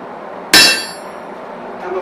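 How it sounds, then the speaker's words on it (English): A blacksmith's hammer strikes hot metal once on an anvil in an 1840s-style smithy, a single loud, close, ringing clang that decays over about half a second. "And then we pound it out like this."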